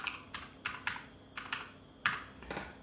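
Keys on a computer keyboard clatter in short, irregular clusters of taps, close and fairly quiet, with no talking.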